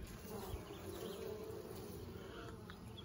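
Honey bees at an opened hive hum in a dense, continuous buzz close by, steady and fairly quiet throughout, with no speech.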